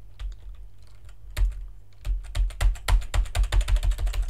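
Someone types on a computer keyboard during a gaming session. Scattered clicks at first build into a fast, steady burst of close, crisp keystrokes.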